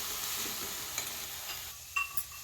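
Fenugreek leaves are lightly fried and stirred in a pan, giving a steady soft sizzle with faint scraping and occasional small clicks. No one speaks.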